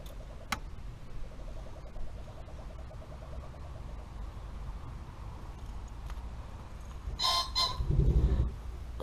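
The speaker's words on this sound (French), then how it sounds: "Le coq qui chante." A farmyard rooster crows near the end, loud and close for a second or two, over a steady low background rumble with a few faint ticks.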